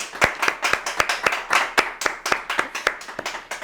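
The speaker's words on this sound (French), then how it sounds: "Vous pouvez vous applaudir tous." A small audience at a book club event claps in a sparse, rhythmic pattern, distinct individual hand claps spaced evenly, close and clear with no talking.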